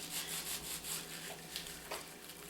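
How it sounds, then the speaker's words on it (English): Dried sage is rubbed by hand over a bowl of homemade sausage mix, giving a soft, continuous dry rustling and crumbling with gentle rhythmic pulses, close but quiet. "I'm not really rubbing it to a fine texture, because this is going through a grinder"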